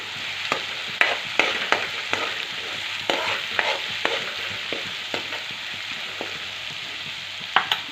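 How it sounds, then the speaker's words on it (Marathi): Green chilies sauté in hot oil in a pan, giving a steady bright sizzle broken by sharp clicks and scrapes of a spoon stirring, close and continuous with no talking. "आता मिरची पण आपली छान परतून झालेली आहे"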